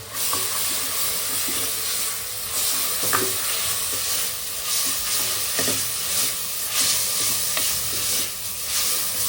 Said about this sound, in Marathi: कांद्याला शिजवून घ्यायचे आपल्याला हो. आणि मग त्यानंतर हिरवा वाटण टाकलेलं आहे